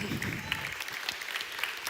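Scattered, fairly faint clapping comes from a few audience members during a talk, mixed with voices and brief murmuring in the room.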